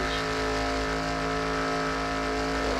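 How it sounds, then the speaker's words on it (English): Onboard engine of a NASCAR race car at Talladega in a racing video game, a loud, steady, droning high-rev roar that holds constant throughout. "On board with the 5 car of Kyle Matthews."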